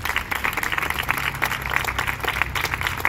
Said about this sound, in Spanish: Un aplauso para el pueblo palestino.